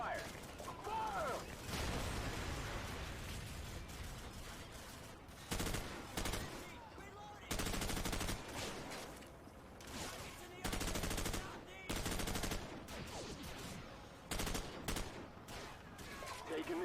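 Gunfire in Call of Duty 4: Modern Warfare, with dense automatic bursts and repeated loud tank cannon blasts firing in short separated volleys, while a voice talks over the action.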